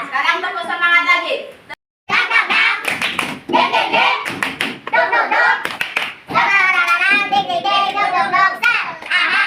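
Indonesian schoolchildren in a classroom chant a rhythmic "tepuk semangat" cheer while clapping in a quick pattern, their loud voices and sharp claps interleaving close up.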